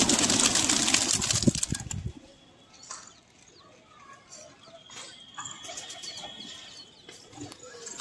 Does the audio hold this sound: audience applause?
no